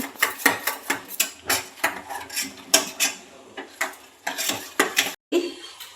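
A spoon scrapes and stirs sago pearls with chili in a pan while making homemade papad, giving a steady series of close, clattering strokes at a regular rhythm with a brief pause near the end.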